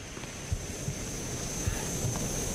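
Blizzard wind roaring outside in a survival video game, a steady loud broadband rush with a faint high whine and occasional low gusting bumps, no talking.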